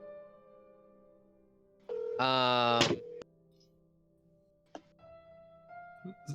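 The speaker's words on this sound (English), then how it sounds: "Literally, someone's getting a phone call." A phone rings during a tabletop role-playing session: one short, bright burst of ringing about a second long, then a couple of faint clicks and quiet room sound.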